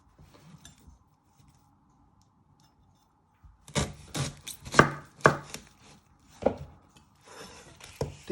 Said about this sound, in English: You're first going to chop your end off.